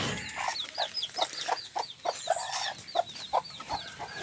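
A mother hen kept on a Filipino game-fowl farm, used for breeding, clucks in a steady run of short repeated calls, close and fairly loud, with higher chirps from other birds behind her.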